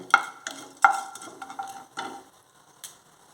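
Fenugreek seeds stirred and dry-roasted in a kadai, with a metal spoon scraping in a few quick strokes, each bringing a bright rattle and rustle of seeds that fades to near quiet, close and clear with no talk.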